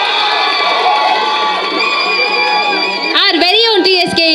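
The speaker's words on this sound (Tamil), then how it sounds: "Let's give it up for TSK." A launch-event crowd cheers and whoops for TSK, with a loud, sustained roar of voices that swells into sharper shouts near the end, and talk mixed into the noise.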